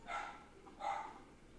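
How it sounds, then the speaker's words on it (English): Dogs bark twice in a household, each a short, moderately loud burst about half a second apart, heard somewhat distant with no talk over them. "Again, apologies for dogs barking."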